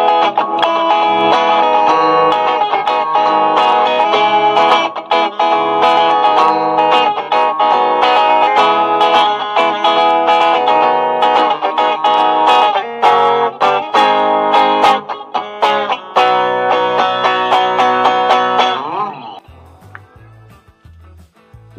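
A black 1977 Fender Telecaster electric guitar plays on both pickups with the chorus switched off, giving a bright, continuous run of strummed chords and melodic lines for about 19 seconds before ringing out into a brief low tail.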